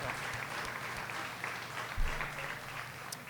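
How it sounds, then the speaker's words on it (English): A crowd claps in sustained applause, a dense, even patter of many hands with no pauses. "Give them a round of applause, please."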